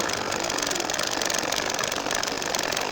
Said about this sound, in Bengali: এখন হাফ ইঞ্চি রেখে আবারও সেলাই করে নিব